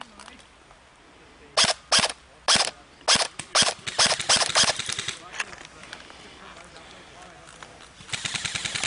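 Airsoft guns firing outdoors in a wooded field game, a quick series of sharp cracks and short rapid bursts, some single shots and some clustered volleys, fairly close and loud, with voices in the background.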